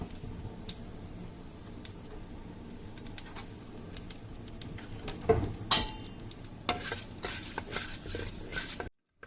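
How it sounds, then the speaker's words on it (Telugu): Mutton curry spices being stirred in a pan: a quiet, steady sizzle of frying with intermittent close scrapes and light clinks of the spoon, plus one louder clatter midway, with no talk. "అన్నీ వేసుకొని ఒకసారి కలుపుకుందాం"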